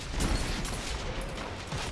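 Gunfire in the online shooter Destiny 2, a steady stream of rapid shots and clattering weapon mechanics running loud through the whole two seconds with no talk.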